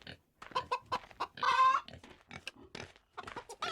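Rooster clucking and crowing in a farm setting in the video game Wild West Dynasty, a string of short close calls with one longer drawn-out cry in the middle, heard on its own.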